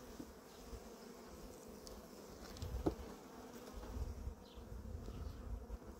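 Honeybees in a hive that has been sprinkled with syrup hum in a continuous, close buzz, with soft handling noises beneath.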